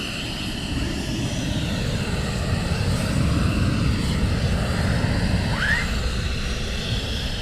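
Military aircraft moving at RAF Lakenheath during a morning surge launch: a steady, loud broadband engine roar that holds throughout, with a brief rising whine near the end and no talk.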